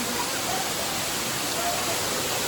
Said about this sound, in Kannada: ನೀರೆಲ್ಲ ಆಡ್ತಾ ಇದ್ದಾನೆ ಕುಳ್ಳ.